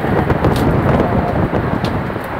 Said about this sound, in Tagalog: Nandiyan na ng hangin.